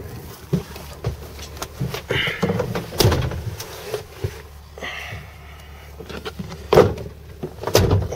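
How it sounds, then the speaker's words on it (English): A 1996 Ford F-250 extended-cab pickup door is shut with a couple of sharp thumps and some rattling handling, outdoors with faint background noise. "The door, you have to pick up on the door to get it to shut."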